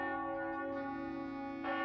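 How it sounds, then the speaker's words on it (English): A large city bell in a video game tolling loudly and close up, a sustained ringing tone with a second strike near the end. "I'm directly on the bell that's supposed to be heard across the whole city."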